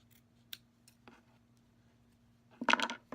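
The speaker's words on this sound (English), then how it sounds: "Gonna cut it to make it even now." Scissors cut fabric for a plush hat, close and quiet, with a few isolated snips followed by a louder cluster of quick cuts at the end against a faint steady hum.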